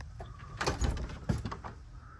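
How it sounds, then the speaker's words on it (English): A residential garage door, opening from the cellar-side entrance into a garage where a 1972 VW Super Beetle sits, rumbles and rattles in two short bursts of fairly close mechanical movement, with no talking. "All right, let's open the door."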